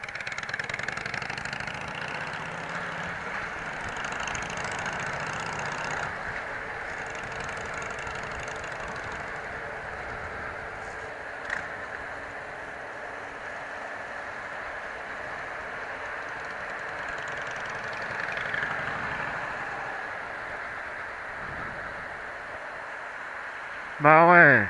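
A freshly repaired MT motorcycle engine idles with a steady, mid-pitched rumble, with occasional small blips and a louder burst right at the end, while people talk nearby.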